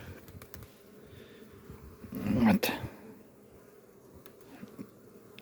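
Bees buzz around the hive in a beekeeping yard, a low continuous hum that swells into a louder close pass midway, while someone speaks briefly.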